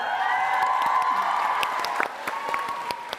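A TwitchCon Amsterdam panel audience applauding and cheering, dense sustained clapping from a large crowd with scattered whoops and a voice heard over it.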